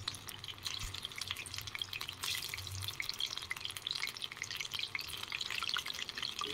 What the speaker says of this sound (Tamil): சூடான ஆயிலை ஒவ்வொன்றா போட்டு பொரித்து எடுத்துடலாம்